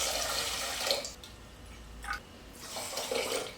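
Water runs steadily into a pot holding two cups of jasmine rice, a continuous hissing pour at close range with short pauses, no voices.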